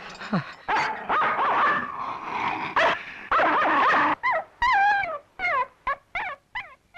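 A dog barks and yips nearby in a rapid series of sharp calls, ending with several high, whining yelps.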